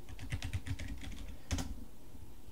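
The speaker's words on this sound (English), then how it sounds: "So if I type in PowerShell," Typing on a computer keyboard, with a quick burst of close key clicks followed by a pause and one more firm tap.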